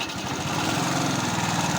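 Honda Astrea 800 motorcycle engine revving hard and holding high RPM, a loud, steady buzzing drone close by with a faint uneven stutter, no talking.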